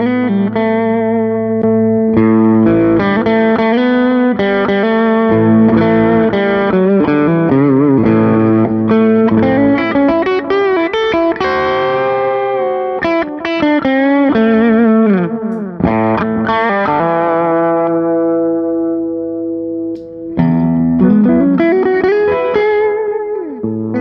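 Electric guitar through an amp with a slight gain boost for a bluesy lead tone, played up close as fluid sustained notes and bends with mild drive and chorus-like shimmer, alone without talk.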